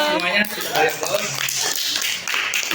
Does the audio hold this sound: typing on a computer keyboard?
no